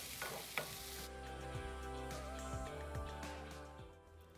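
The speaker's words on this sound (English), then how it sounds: "We are adding the microwaved okras and we can coat thoroughly with the masalas." Okra sautéing with masala spices in a pan gives a soft, steady sizzle with occasional light stirring clinks, fairly quiet, with no one speaking.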